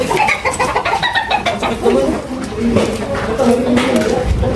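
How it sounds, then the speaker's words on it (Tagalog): Chickens cluck repeatedly close by, mixed with people talking over the birds throughout. "Uy, may manok pala dito, pre! Laki mo!"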